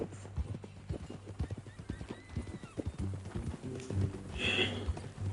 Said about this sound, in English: That new horse?